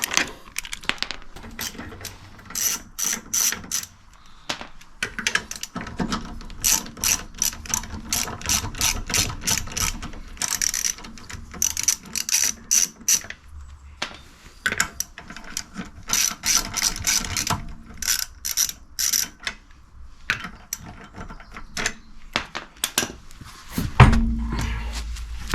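Ratchet clicking rapidly in repeated bursts while loosening badly seized, rusty bolts on a Mercedes, with metallic clanks between strokes and a brief heavy thump near the end.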